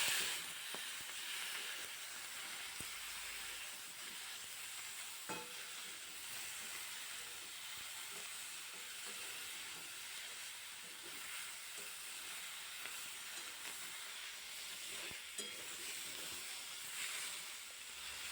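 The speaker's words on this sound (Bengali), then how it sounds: "এবার বেগুনটা দিয়েও আর একটু নাড়িয়ে চাড়িয়ে ভেজে নেব।" Brinjal fries in a pan for an aloo-begun hilsa curry, giving a steady, soft sizzle and hiss throughout with occasional faint stirring clicks. The sound stays fairly quiet and even, with no talking.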